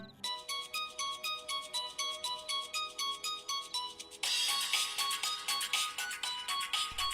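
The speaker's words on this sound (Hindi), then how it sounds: "फोन तो आ गया" A mobile phone rings with an incoming call, a repeating melodic ringtone with evenly spaced bright tones that grows fuller and louder partway through and plays on alone.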